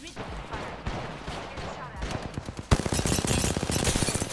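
Rapid gunfire crackles through an Apex Legends battle royale firefight, starting as scattered shots and jumping to a dense, loud automatic burst midway, with no clear talk over it.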